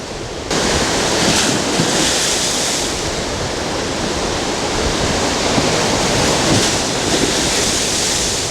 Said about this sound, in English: Boy, the wind is rough and the waves are rough.